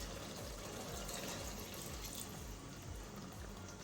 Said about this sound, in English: I'm only adding 100 ml of water there.